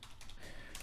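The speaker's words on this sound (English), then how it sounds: "here, let me type it" Soft, quick keystrokes on a computer keyboard, a brief quiet run of clicks heard close up.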